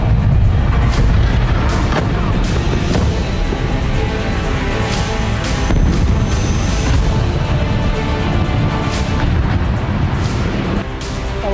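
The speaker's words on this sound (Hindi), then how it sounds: "इजरायली हमलों से कैसे ईरान के कई शहर दहल गए" Israeli air strikes hit Iranian cities at night, with dense, loud explosive booms and crackling blasts rolling over a constant heavy rumble.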